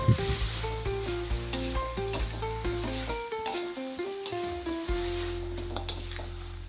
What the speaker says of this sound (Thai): แล้วก็ผัดอีกสักเล็กน้อยครับ